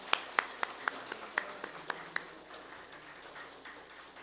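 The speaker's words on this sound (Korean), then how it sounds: "다시 한번 박수로 환영해 주시기 바랍니다" A church congregation at a Sunday worship service claps in welcome, a run of distinct, evenly spaced loud claps at first, then settling into a softer, steady patter of applause.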